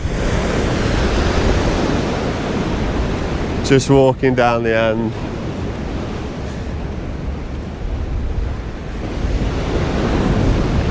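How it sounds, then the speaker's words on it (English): Choppy sea waves at Skegness, England, rush and churn continuously along with gusting wind, while a person speaks briefly in the middle. "Look at the sea, still choppy."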